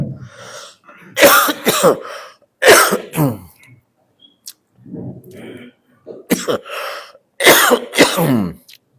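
Several bursts of harsh coughing from a month-long cough come in clusters with pauses between, mixed with softer throat clearing, close to the microphone, during a mosque religious lecture.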